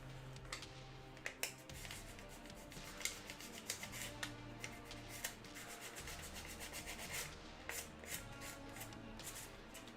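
Sandpaper rubs and a tool scrapes across a model's surface to redefine its panel lines, making quiet, continuous scratchy strokes close by with small sharp ticks and a low background hum.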